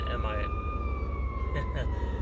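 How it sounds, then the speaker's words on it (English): Ambulance sirens: one wails in a long steady tone over low engine rumble, with a second siren briefly yelping as the ambulances pass at moderate distance. "So these ambulances are going by."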